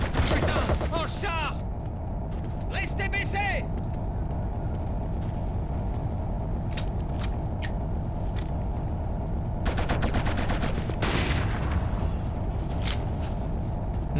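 Shotgun blasts and gunfire in the PS2 shooter Killzone, sharp bursts scattered through a dense, continuous background of battle noise and engine rumble, with a heavy cluster of shots near the middle.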